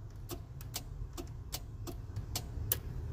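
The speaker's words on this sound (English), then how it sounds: "We do have a relay clicking over there" A relay in a UD 2000 cab-over rollback truck with a no-crank, no-start fault clicks repeatedly in a quick, uneven run of sharp ticks, faint over a low hum with no talking.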